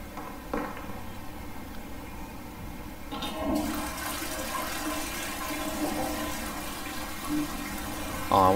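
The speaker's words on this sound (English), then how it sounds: "I've never seen a toilet flush in that game before" A toilet in the video game SOMA flushes with a loud, steady rush of water that swells midway and keeps gushing and refilling for several seconds, with no voices.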